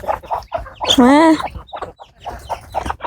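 Breeding ducks on a farm in Laos give one loud, drawn-out quacking call midway, close by, with someone talking before and after it.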